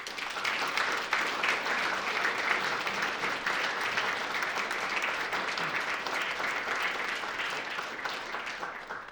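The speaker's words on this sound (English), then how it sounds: "give them, since they're in the room, a short round of applause" A short round of applause from an audience at a meeting, steady moderate clapping from a roomful of people that carries on for about nine seconds and tapers slightly at the end.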